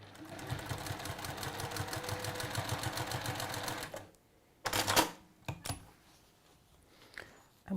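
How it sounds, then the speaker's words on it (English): A sewing machine stitches fabric pieces together in a quilting workshop, a fast steady mechanical clatter close by for about four seconds, then stopping, followed by a few scattered clicks and handling sounds. "So we're just going to sew that onto there."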